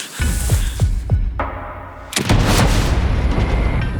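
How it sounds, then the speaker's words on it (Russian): Rifle gunshots on an ibex hunt in the Kyrgyzstan mountains: several sharp loud cracks with booming echoes early on, then a heavier blast followed by rolling reverberation across the slopes. "Самца удается взять первым же выстрелом."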